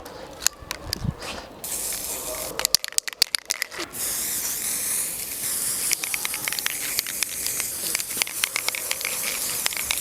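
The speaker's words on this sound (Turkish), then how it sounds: "Köpük eriyor bu buna sprey gelince." Short bursts of aerosol spray paint hiss onto foam, sputtering at first, then turning into a long, steady, fairly loud hiss with quick clicks and crackles through it.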